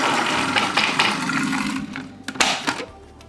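Kitchen blender pulsing cilantro oil with salt, black pepper and red wine vinegar, a loud whirring motor in short bursts that drops out toward the end.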